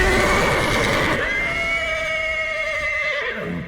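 A horse whinnies in the anime Vinland Saga, a loud drawn-out neigh that rises and trails off over several seconds, standing alone without speech.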